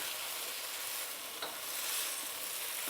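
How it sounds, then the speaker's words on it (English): Tomato passata sizzles and bubbles as it is stirred into bell pepper in a hot pan, a steady bright frying hiss with a faint scrape of the spoon partway through. "So the tomato sauce. Get it in and give it a stir."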